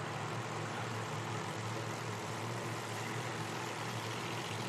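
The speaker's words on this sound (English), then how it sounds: "Hey, I hear engines firing up here." Pro Mod drag racing engines fire up at an IHRA Outlaw Nitro Series qualifying event, a steady, unbroken droning roar heard from a distance with no voices over it.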